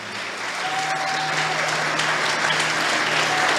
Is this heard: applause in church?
yes